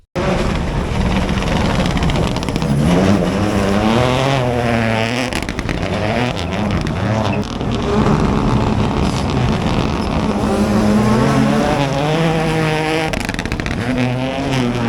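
Rally cars race on a slippery, very dusty night stage of the 2023 Forest Rally, their engines loud and close, rising and falling in pitch as they rev hard through the gears without pause.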